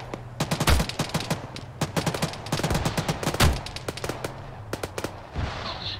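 Arma 3 gunfire rings out in sharp, rapid bursts and scattered single shots, some loud and close, others fainter, crackling over six seconds with almost no talk.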